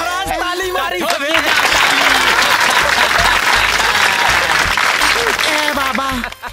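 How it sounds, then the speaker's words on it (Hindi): Applause in a Bhojpuri film scene, a large crowd clapping loudly and continuously while voices and shouts rise over it and a rhythmic musical beat runs underneath. "महाराज ताली मारी सबे।"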